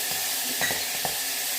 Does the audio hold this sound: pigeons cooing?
no